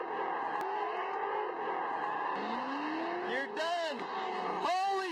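A drift car skids through a slide, its tires squealing and its engine whining in rising sweeps that build toward the end, with a voice talking over it.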